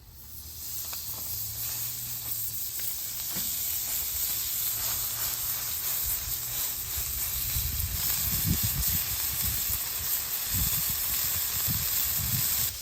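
Burger patties sear over the hot zone of a grill, giving a steady, loud sizzle and hiss throughout, with low crackling bursts growing stronger toward the end.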